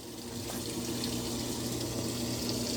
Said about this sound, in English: Yeah, there's water. Oh, Yeah. It's still filling.